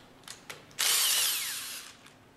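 A power tool unfastens the upper outer bolts of a front inlet valve plate on an MWSR pump: a few short taps, then a loud, close whine lasting about a second that tapers off.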